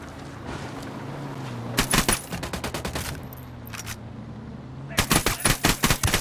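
Rapid bursts of automatic gunfire in the tactical shooter Ghost Recon Wildlands, two loud volleys of closely spaced shots separated by a pause, over a low ambient hum.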